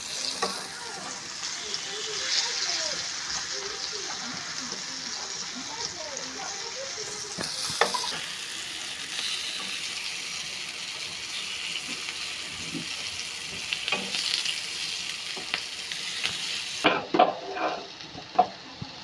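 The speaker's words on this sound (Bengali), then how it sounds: "এভাবে কলা এবং আলুর বড়া বানিয়ে খেলে অনেক টেস্টি লাগে।" Banana and potato fritters fry in hot oil in a pan, giving a continuous bubbling sizzle with occasional clatters from turning them. A voice talks quietly over the frying.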